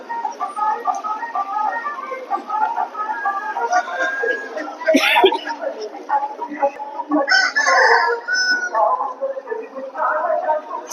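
Chickens cluck and a rooster crows amid a noisy poultry market in Meensurutti, where ducks are also sold, with people chattering nearby and a dog barking briefly.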